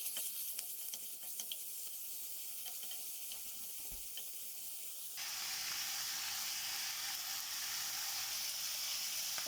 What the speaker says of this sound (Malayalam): ഇപ്പോൾ നന്നായിട്ടൊന്ന് ചൂടായി ഇതിൻ്റെ വെള്ളമൊക്കെ വറ്റിക്കഴിഞ്ഞപ്പോഴേക്ക് പതുക്കെ വേണ്ട നെയ്യ് ഉരുകി തുടങ്ങിയിട്ടുണ്ട്